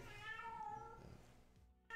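A cat meows close by, one drawn-out, rising and falling mew that is faint and alone, followed by a short pause and then a sudden burst of new noise.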